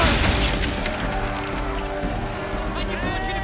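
Cannon fire and explosions in the Assassin's Creed 3 naval game, with heavy booming blasts and rumbling debris over sea ambience, a loud burst at the start trailing into a continuous roar.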